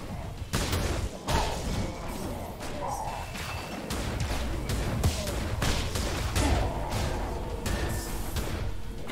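Bursts of gunfire and impact thuds from shooting at mages in the Greek and Roman mythology first-person shooter PERISH, loud and repeated, with game noise throughout.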